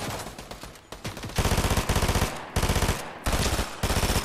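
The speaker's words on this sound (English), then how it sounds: "You had to rush him with that SMG" Rapid SMG fire in a shooter video game, several loud, close bursts of fast automatic shots separated by brief pauses, with no talking.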